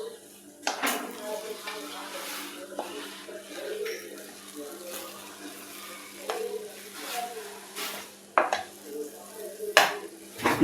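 A utensil stirs and scrapes thick rava kesari in a pan, with repeated knocks against the metal, a faint sizzle and faint speech in the background.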